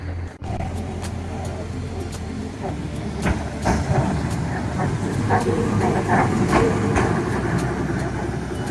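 Rumbling, clattering old wooden electric tram rolling along rails in Porto, with rattling wheels and creaks building louder over a steady low drone.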